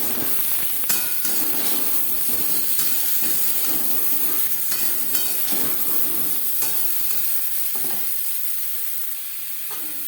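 Potatoes frying lightly in a kadai with turmeric and salt give a steady close sizzle and hiss, broken by occasional scrapes and taps of a stirring spoon.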